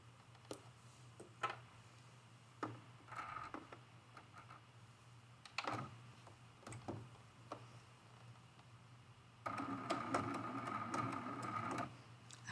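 A sewing machine stitching a small meandering quilting pattern runs in short, quiet bursts of mechanical whirring and ticking, with a longer, steadier run near the end over a faint background hum.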